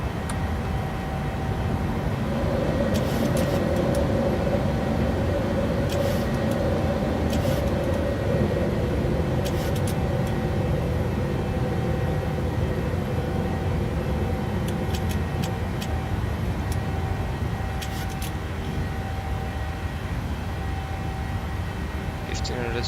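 Steady broadband roar of a PMDG 737-800's engines climbing after takeoff in Microsoft Flight Simulator 2020, a constant loud drone with brief clicks and tones over it and a cockpit voice speaking now and then.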